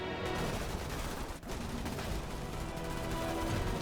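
Dense, continuous gunfire from snipers and rifle troops battling arachnids emerging from a bug cave in the strategy game Starship Troopers: Terran Command, a loud, unbroken stream of overlapping shots with only a brief dip in intensity.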